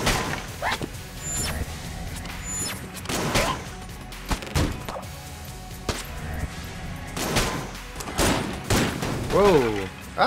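Shotgun Full of Hate blasts in Enter the Gungeon, several loud bursty shots spread across the stretch, mixed with game effects, a barking-like sound and someone talking over the action.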